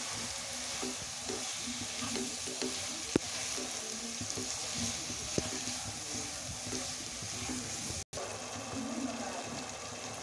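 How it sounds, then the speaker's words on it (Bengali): Coriander powder, salt and spices stir-fry in oil for a fish, potato and tomato curry, giving a steady, close sizzle with occasional spoon scrapes and clicks against the pan throughout. "এখন ভালো করে নেড়ে চেড়ে কষিয়ে নিব।"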